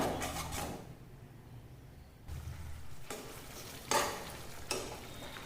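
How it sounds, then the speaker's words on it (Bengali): Spice masala paste frying in a pan with salt while being stirred, a low sizzle broken by several distinct scraping strokes of a spoon against the pan, close-up. "মশলাটা আমি 2 মিনিট মতো খুব ভালোভাবে কষিয়ে নেব"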